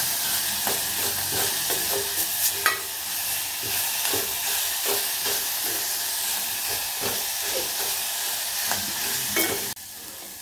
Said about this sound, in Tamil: நான் வந்து வதக்கிக்கிறேன்.